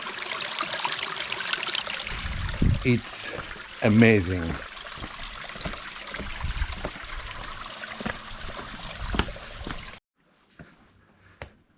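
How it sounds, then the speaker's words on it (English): Small mountain stream in Piódão flowing and trickling steadily nearby, with a person briefly talking over the running water before it cuts out near the end. "Can you imagine sleeping just listening to this water?"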